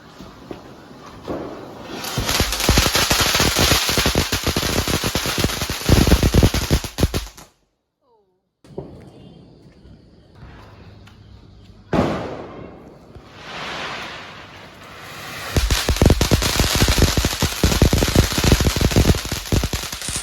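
Firecrackers set off to celebrate Vishu, crackling in dense, rapid bursts of sharp pops and bangs, broken by a brief silent gap and a quieter stretch before the loud crackling resumes.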